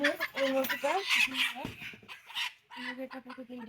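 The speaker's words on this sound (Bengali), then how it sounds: "নিচে সবগুলো মুরগি আছে এই যে আমাদের মুরগিগুলো" Several chickens cluck and squawk in quick, overlapping bursts close by, with short pauses between calls.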